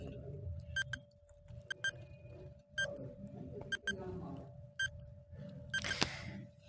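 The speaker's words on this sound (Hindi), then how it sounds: "टाइमर आपके सामने लग चुका है 10 सेकंड का" A 10-second quiz countdown timer ticks with short, evenly spaced electronic beeps about once per second over a faint background hum, ending in a brighter burst.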